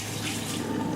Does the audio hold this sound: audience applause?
no